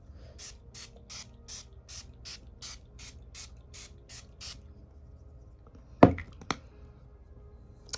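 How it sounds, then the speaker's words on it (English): Setting spray misted from a glass bottle: a quick run of about eleven evenly spaced short spritzes, close and crisp, then a pause followed by a couple of sharper knocks near the end. "Now we're gonna put on this setting spray."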